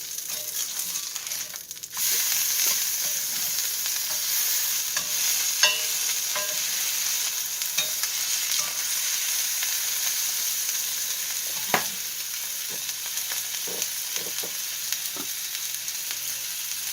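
An olive burger patty sizzles steadily on a hot grill, a continuous fry hiss with occasional small pops and crackles, no voices.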